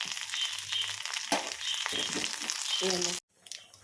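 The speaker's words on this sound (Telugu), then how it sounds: "ఇలా తాలింపు లైట్ బ్రౌనిష్ వచ్చేంత వరకు ఇలా వేయించుకొని ఇవి చిట్టుపట్లాడుతూ ఉన్నప్పుడు" Fenugreek seeds, mustard seeds, dried red chilies and curry leaves crackle and sizzle in hot oil with sharp pops and a few clatters of stirring, close by, ending abruptly.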